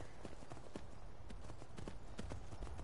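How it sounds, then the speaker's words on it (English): Horse hooves clip-clopping in the Skyrim video game, an even run of close, moderately loud hoofbeats over a dense low background, with no talking. "Just gonna park my horse over here."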